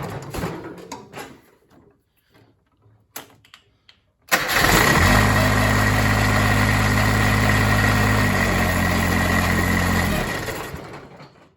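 After a few faint clicks and pauses, a Ford LGT 16D diesel engine with new glow plugs cranks and catches at once, then idles loudly with a steady low rumble before shutting off near the end.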